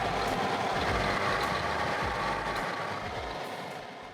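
A motor fed by a modified, rebuilt carburettor runs lean, giving a loud, continuous, close engine drone with a slightly uneven rumble that eases a little toward the end.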